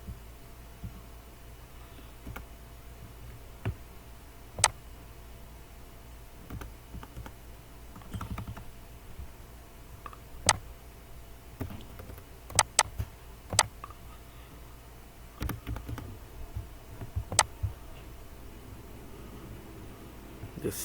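Sparse computer mouse clicks while working on a button in an Excel spreadsheet, single soft clicks spaced irregularly over a quiet room background, with a few quicker pairs in the middle.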